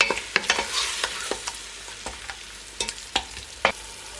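Crushed canned tomatoes stirred in a soup pot for harira: a faint simmering sizzle under a series of irregular spoon scrapes and knocks against the pot, close by.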